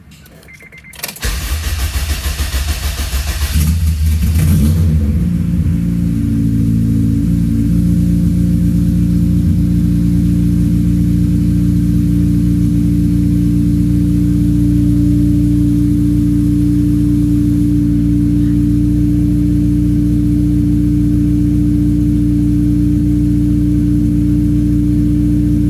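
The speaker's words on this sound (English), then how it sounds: "Car sounds good though, that's good." A Honda K20Z1 car engine, recently run without an oil filter, starts and revs briefly, then settles into a loud, steady idle that drones on close by with no talking.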